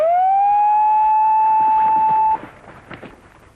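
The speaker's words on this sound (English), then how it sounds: "After the buzzer has sounded," A loud, steady electronic start buzzer sounds for over two seconds at a Birdman flying competition, then cuts off, leaving faint crowd murmur behind.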